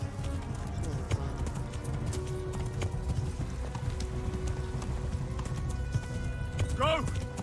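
In Kingdom Come: Deliverance, a horse plods along slowly, its hooves clip-clopping in a steady rhythm beneath continuous game ambience, with a brief vocal sound near the end.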